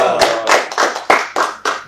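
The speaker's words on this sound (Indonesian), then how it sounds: "Tepuk tangan dong." A few people clap their hands in about six loud, separate bursts close by, with no talk over them, during an interview with an official of the West Java family planning agency.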